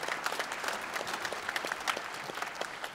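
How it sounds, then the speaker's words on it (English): An audience at a community band concert of world music claps steadily in a dense round of applause, even and sustained throughout. "Let's give a nice round of applause to Ovid."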